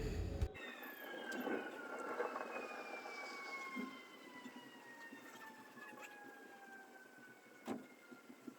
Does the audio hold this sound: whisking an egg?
no